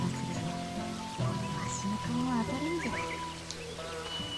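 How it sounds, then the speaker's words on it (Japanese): Rain falls with a soft, steady patter in the rice-farming video game Sakuna: Of Rice and Ruin, mixed with game music tones and bird-like chirps at a low level. "雨降ってんだけど"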